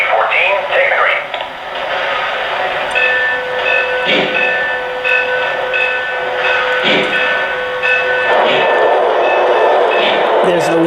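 A Lionel Reading Consolidation model steam locomotive chuffs once per wheel revolution, giving soft periodic puffs over a loud, steady electronic hiss and tones from its sound system.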